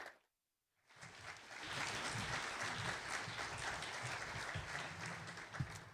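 Sustained applause from a conference audience welcoming keynote speaker Janet McCabe, starting after a short silence and holding steady and full for several seconds, a dense wash of many hands clapping.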